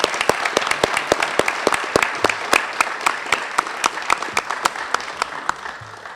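Applause at a congressional veterans' commendation ceremony honoring a World War II Army sergeant: steady clapping from a modest crowd, with distinct sharp individual claps standing out in a fairly even rhythm over the whole stretch.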